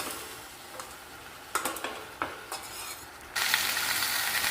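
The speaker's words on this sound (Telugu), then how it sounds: "వంకాయలు కడిగి పెట్టుకొని వంకాయలు వేసుకోండి ఇప్పుడు కలుపుకున్నాం" Brinjal pieces being stirred in a pan with fenugreek, producing a few scraping strokes before a steady broadband sizzle of frying takes over, close and moderately loud, with no talk.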